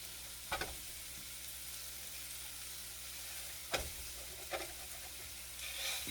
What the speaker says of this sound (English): this sausage doesn't look like it's got much grease to it, but it just has started to fry